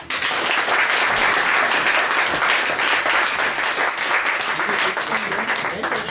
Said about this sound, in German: Begrüßen Sie ihn mit einem kräftigen Applaus.